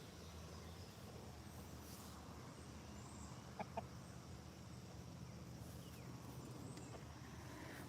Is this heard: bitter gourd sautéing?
no